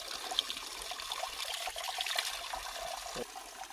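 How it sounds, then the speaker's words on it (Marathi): Spring water flows from a rock on a mountainside at Vhanali in Kagal, a soft, steady trickle heard close and alone without talk. "वर्षानुवर्षे संततधार वाहणारा हा झरा आहे"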